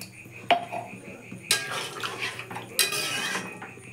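A spoon stirs chilli chicken in a metal pan, with a few sharp scraping clanks in separate bursts, close and fairly clear.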